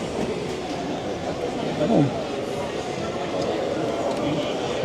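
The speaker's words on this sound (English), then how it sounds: "Look at this railway here." A LEGO model train runs along a large display railway at a brick show, a steady rolling clatter under crowd chatter and hall noise throughout, with a brief louder passing moment near the middle.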